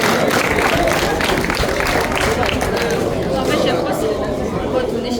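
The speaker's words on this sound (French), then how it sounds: "Vous pouvez les applaudir." An audience applauds prize winners at a goat show in Petit-Canal with steady dense clapping mixed with chatter and talking voices for the whole stretch.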